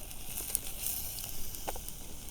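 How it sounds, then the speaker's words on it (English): Garlic and stew ingredients fry in a pan, a faint, steady hiss of sizzling with scattered small crackles and pops. "That's all getting a nice fry in there."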